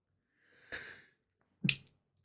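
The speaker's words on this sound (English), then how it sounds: "Sneeze." One person's sneeze up close: a drawn-in breath followed by a sharp burst, heard alone in a quiet room.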